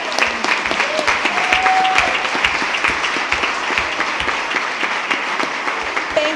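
Audience at a school board meeting applauding a student, steady, crisp clapping from a modest crowd sustained for several seconds, fairly close, with a few brief vocal whoops mixed in.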